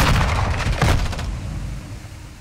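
Gunfire in an online multiplayer shooter: a loud, dense burst of shots and booming impacts packed into the first second, fading into a rumbling tail.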